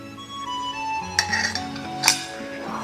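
A spoon stirring cornflour into Thai green prawn curry gravy in a pan gives a few clinks and scrapes of metal against the pan, with two sharper knocks, over a quiet background with no talk.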